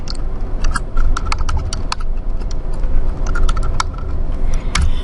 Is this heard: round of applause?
no